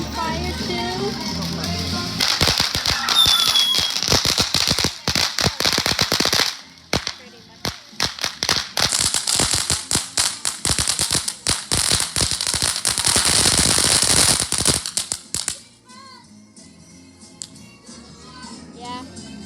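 Christmas Eve fireworks and firecrackers crackle and bang in long rapid bursts, loud and close, with dense popping volleys, brief pauses and scattered whistles, and a quieter tail of distant pops at the end.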